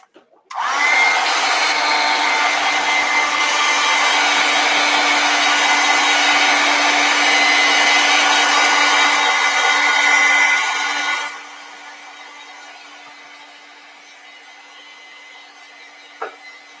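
A hair dryer blows steadily on wet acrylic paint, roaring loud and close for about ten seconds before dropping to a quieter hum on a lower setting, with a small click near the end.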